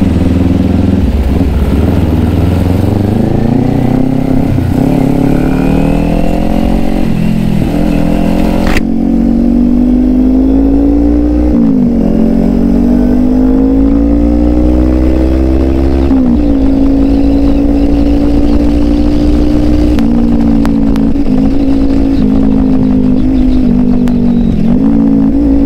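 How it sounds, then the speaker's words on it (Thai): Two-stroke motorcycle engine revving hard and loud up close, its pitch climbing and falling in repeated throttle blips over a steady rasping drone. "ตอนนี้2จังหวะตัวแรงนะ"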